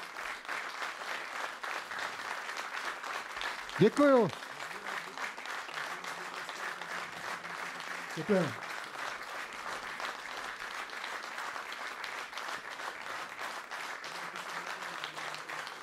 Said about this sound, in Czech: Váš potlesk svědčí tomu o tom, že se vám dnešní koncert líbil.